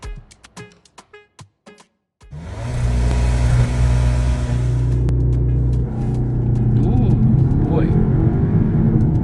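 A few short clicks and taps, then a 2023 VW T-Roc R-Line roars into sustained hard acceleration using launch control, a loud, steady, rising drone with rumbling low end close by.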